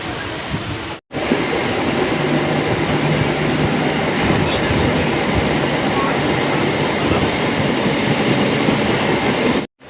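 A train rumbles steadily and loudly through Jhargram station, a continuous close rolling roar of wheels and carriages with a brief gap near the start, on the line bound for Ghatshila.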